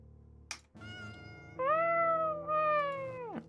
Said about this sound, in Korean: 아니 어디서 이렇게 인위적인 고양이 소리가?